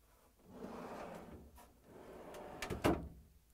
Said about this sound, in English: And now I'm going to pull out the drawer.